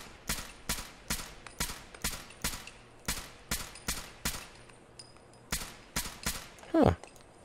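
An automated turret in Fallout 4 fires a steady run of about a dozen sharp shots at an even, rhythmic pace, moderately loud and close, ending in a brief rising whine.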